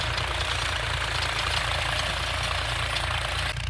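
Close and loud, a tractor pulling a rotavator across a field drones steadily with a heavy, knocking engine throb and thick mechanical churning that never lets up, with no voices.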